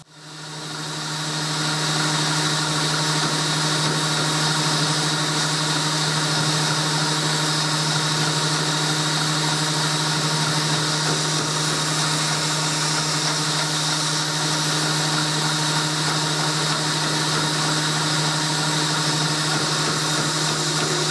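A bench grinder with a jig shapes and polishes the bevel of a knife blank, giving a steady, even mechanical whir with a low hum that runs unbroken and close throughout, with no talking.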